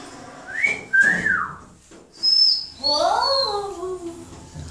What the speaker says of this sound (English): Just the best whistle.